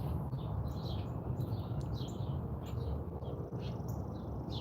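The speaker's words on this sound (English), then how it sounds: "Oh, there's a cardinal." Northern cardinal singing in a backyard in the early morning, a string of bright repeated chirps heard over a steady, loud hiss of background noise, with other birds faintly mixed in.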